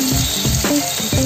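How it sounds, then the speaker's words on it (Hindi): Paneer shallow frying in a pan of oil for matar paneer, a loud, steady sizzle with crackling bursts and a few scraping stirs, close up with no talk. "ये हमने इसको फ्राई करने के लिए डाल दिया है। ये हमारा पनीर थोड़ा सा शैलो फ्राई कर लेंगे"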